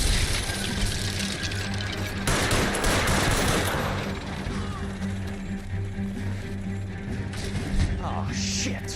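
Gunfire aimed at a driver in L.A. Noire crackles through a busy game mix of engine rumble and mechanical clatter, loud and continuous, with a voice talking over it.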